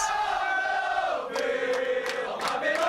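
A large crowd of Liverpool FC fans at the LFC Tour Indonesia event, cheering steadily with a sustained roar of many voices and a few sharper shouts rising above it.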